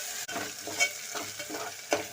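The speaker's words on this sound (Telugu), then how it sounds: "ఒక 1/2 టీ స్పూన్ అల్లం వెల్లుల్లి పేస్ట్. ఇది పచ్చివాసన పోయేదాకా వేసుకోవాలి." Ginger garlic paste fries in a pan for an egg tomato curry, a steady close sizzle broken by scraping stirs.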